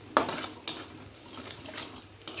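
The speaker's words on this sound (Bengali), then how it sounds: "দিয়ে একটু কিন্তু নেড়ে চেড়ে নিতে হবে।" A spoon scrapes and clinks against a pan while ground spices are stirred, several distinct strokes over a faint sizzle, close and fairly quiet.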